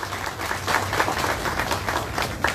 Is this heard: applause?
yes